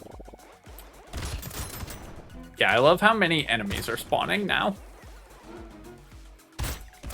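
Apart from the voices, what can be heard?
explosions in the video game Brotato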